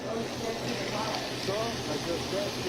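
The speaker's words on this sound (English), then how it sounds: "Gonna add some calamari." Calamari hisses in a crowded paella pan beside shrimp, giving a steady, dense sizzle that runs unbroken throughout.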